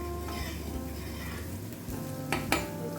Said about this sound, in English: Coming back to the softened onions on the pan, we're going to turn up the heat slightly just to brown the onions